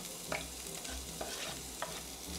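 Finely chopped onion hits a hot pan and sizzles quietly, with a steady frying hiss and a few light scrapes of stirring.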